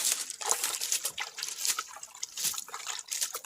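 Water drips and trickles in a small garden stream in Jamaica, fed by hand, making a continuous close patter of splashes and light burbling without any voices.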